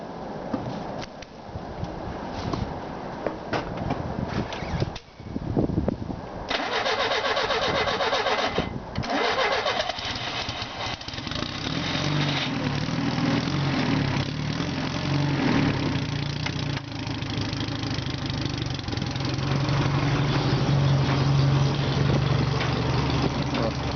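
A 4x4 mini tractor engine cranks and catches after a few seconds of quiet, then settles into a steady, loud idle that runs on to the end with a low rumble, while someone speaks briefly near the start.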